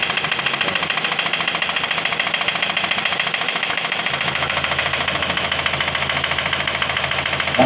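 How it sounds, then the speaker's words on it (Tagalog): A Toyota Vios engine being overhauled for an internal fault knocks steadily, hammer-like, under a loud running drone, the rapid even taps continuing without pause and without voices. "Para may pupok sa loob ng makina"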